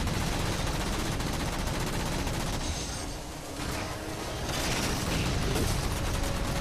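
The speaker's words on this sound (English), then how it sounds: "It's just a matter of taking them out with a combination of rockets and guns here." Rapid gunfire and rocket blasts in the Halo 4 video game, a dense continuous barrage of shots and explosions, loud and close, dipping briefly midway before resuming at full intensity.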